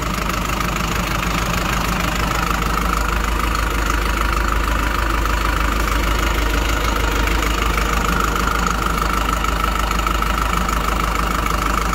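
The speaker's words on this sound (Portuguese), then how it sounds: "Eu vou desligar o motor que vai ficar mais fácil pra gente falar." A motorhome engine idles loudly and steadily nearby, a continuous low rumble with a faint knocking texture and no breaks or talking.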